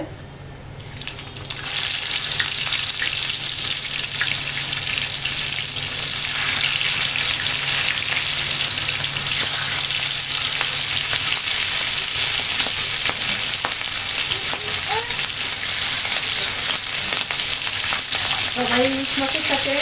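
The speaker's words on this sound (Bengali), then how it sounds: "আমি কাঁচা ভাজা করতেছি" Eggplant slices fry in hot mustard oil, a loud, steady sizzle that swells in after a quiet second and holds close and continuous, with occasional utensil clinks near the end.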